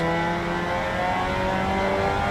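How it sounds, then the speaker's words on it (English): Mazda MX-5 Cup race car engine at full throttle during a race at Oschersleben, a loud, steady high-revving drone with no one talking. "Both drivers are pushing the limits of their Mazda MX-5 Cups, and with Jack Aardvark lurking close behind"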